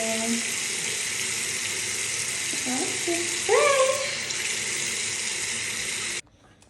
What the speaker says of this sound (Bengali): মুখটা ধুতে হবে সকাল সকাল ঘুম উঠে গেছে মুখ ধুতে হয়